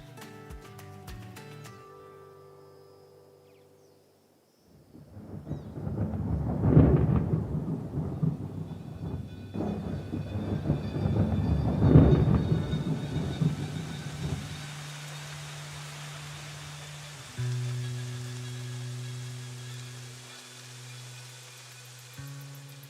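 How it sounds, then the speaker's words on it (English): Heavy rumbling thunder rolls in long waves over a steady wash of rain, loud and close, fading into a lingering low hum. "Finally, the rain has come, and it brings with it a burst of life."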